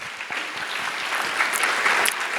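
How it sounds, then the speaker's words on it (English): Brief audience applause at a GST and indirect tax knowledge session, a steady patter of many hands clapping in a hall, fairly close and building slightly before the end. "So please give a round of applause"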